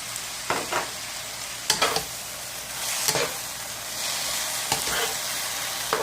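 Shredded potato stir-frying in a wok with a splash of vinegar and pepper, a steady close sizzle broken by several sharp bursts of louder hissing and stirring scrapes, with no talking.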